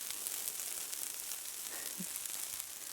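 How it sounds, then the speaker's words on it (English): Soft, steady crackling sizzle of steak frying in a hot pan at a rainy wilderness campsite, a continuous hiss with faint pops, close and quiet, no voices. "You can hear the sizzle. I put my mic up to it."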